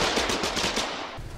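Rapid automatic gunfire in the video game Foxhole during a large tank battle, a close burst of about seven quick shots that then trails off.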